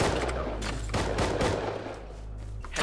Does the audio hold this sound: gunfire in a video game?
yes